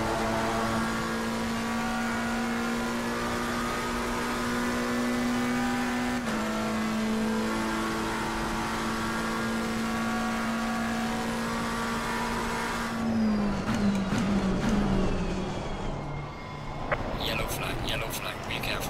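Racing cars at Spa-Francorchamps: an engine holds a loud, steady high drone with strong harmonics for about thirteen seconds, then falls in pitch as it slows. Crackling and clicking follow, and faint voices murmur in the background.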